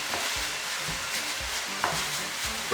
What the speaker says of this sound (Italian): così a questo punto aggiungiamo la carne. Anche sul soffritto